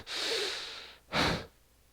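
Two slow, heavy breaths, a long drawn inhale followed by a shorter forceful exhale, close and eerie, imitating the villain Alpha from The Walking Dead, with no talking.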